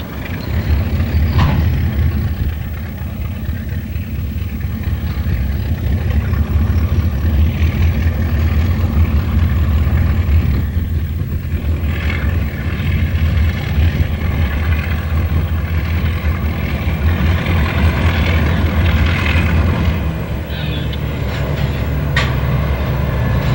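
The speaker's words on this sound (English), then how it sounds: "the distinctive De La Verne exhaust quietly rumbles through the Searles Valley." Baldwin diesel switcher locomotive with a De La Vergne engine rumbling through the Searles Valley desert, a steady low exhaust drone with faint rail clatter, continuous and fairly close for the whole stretch.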